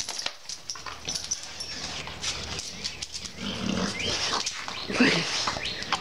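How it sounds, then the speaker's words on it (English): Scout, a playful pet dog, snorts and snuffles close by in short, irregular bursts, with a louder snort near the end. "She snorts."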